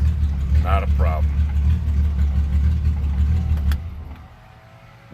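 A 1967 Triumph GT6 engine idles after a cold start, a steady close low rumble with a brief voice over it early on, before the engine cuts off and quiets near the end.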